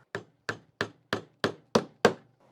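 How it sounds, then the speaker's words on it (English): A TapVolx 16.8-volt brushless three-speed impact driver drives a timber screw with seven sharp, evenly spaced impact knocks, close and loud, separated by short silences. "And somehow this crazy sucker sunk this timber screw farther than the Hyper Tough."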